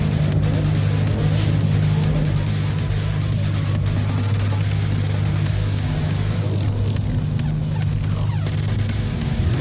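A Lexus race car in a racing game laps the Interlagos circuit in Brazil, its engine droning loud and close at a steady high pitch throughout, with tyre and track noise and no pauses.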